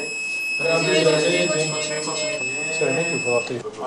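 Breathalyzer emitting a steady high-pitched electronic tone throughout a breath alcohol test, held continuously under overlapping talk.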